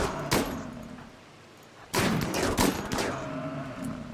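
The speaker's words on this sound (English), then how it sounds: "Machine gun." Machine gun fire in the colony game RimWorld: a sharp shot near the start, then after a lull a dense burst of overlapping reports and thuds that tapers into lighter scattered shots.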